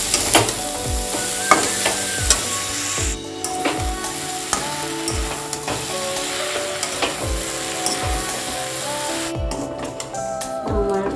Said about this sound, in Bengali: আমি এখন লতিগুলোকে দিয়ে দেবো এখন আমি ভালো করে নাড়াচাড়া করে নেব